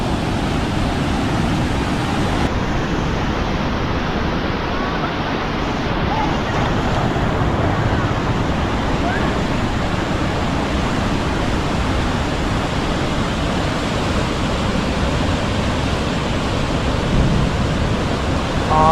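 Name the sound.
water rushing through open barrage lock gates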